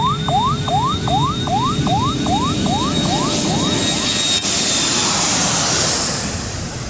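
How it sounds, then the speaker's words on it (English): Jet airplanes roar on a busy runway as they land and take off, a loud steady engine rumble with a whining, repeatedly sweeping tone early on, close and continuous with no talking. "Planes are landing and taking off left and right"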